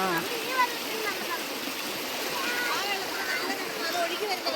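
A small stream running near a village, a continuous close rush and babble of water with no pause.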